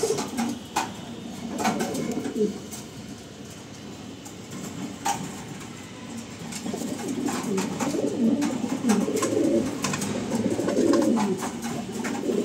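Racing pigeons coo close by in a loft, their soft repeated calls rolling over a steady background hum with sharp clicks and flutters mixed in, and no one speaking.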